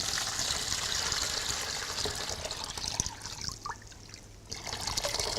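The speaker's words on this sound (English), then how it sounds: "So if you could put a cup of cold water in there." Cold water pours steadily into a bucket for hot and cold foot treatments, a continuous trickling and splashing stream that thins briefly near the end before picking up again, close and fairly quiet.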